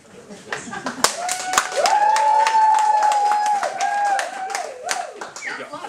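Audience at CakeConf 2014, a cake decorating conference, claps in a burst of applause, close and lively, while a voice speaks and a sustained tonal note rings over the clapping.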